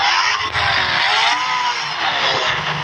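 A motorbike in the Indian Bikes Driving 3D video game pulls to a stop with a skid: a loud, steady engine roar blended with a sustained tyre screech, close and continuous, with no voices.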